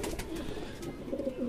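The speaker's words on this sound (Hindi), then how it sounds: "इन कबूतरों को जो है ना वो डाल रहा हूँ बाजरे के अंदर और कनक के अंदर" Pigeons coo softly in low, rolling murmurs, fairly quiet and close, while birds are fed millet and wheat.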